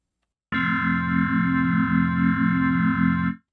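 A synthesizer tone with chorus effect sustains steadily for about three seconds, alone, with a gently wavering, thickened texture from start to abrupt stop.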